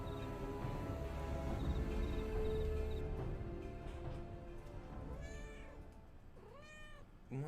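Cat meowing twice near the end, clear rising-falling calls that sit over a dense, loud orchestral game soundtrack from a role-playing game finale.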